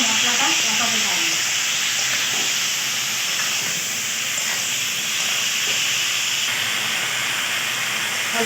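Water poured onto hot frying spice masala for a village fish dish sets off a loud, steamy hiss that fades slightly as it goes on, with no clear talking.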